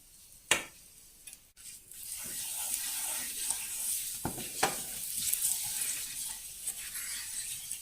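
Italian mixed herbs drop into hot olive oil in a pan, giving a soft steady sizzle with a few sharp pops and clicks near the start, close and fairly quiet throughout.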